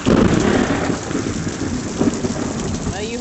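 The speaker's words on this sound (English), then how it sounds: "Big bolt of lightning and a big clap of thunder." A thunderclap booms close during a Florida pop-up rainstorm outside a home in Pensacola, over steady heavy rain pattering on surfaces, with no voices.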